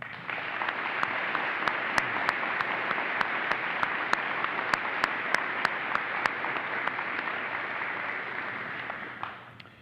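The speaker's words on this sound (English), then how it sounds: "Please join me in a round of applause as we recognize all those who have answered the call to serve our great country" Sustained audience applause at a high school Veterans Day program, a dense steady wash of many hands clapping for about ten seconds, with a few sharper claps standing out, before it quickly fades at the end.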